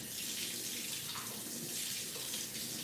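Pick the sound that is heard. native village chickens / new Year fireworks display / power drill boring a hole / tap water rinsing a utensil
tap water rinsing a utensil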